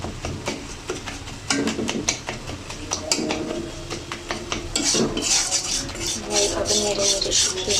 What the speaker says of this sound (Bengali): এইভাবে নেড়ে নেড়ে শুকিয়ে নেব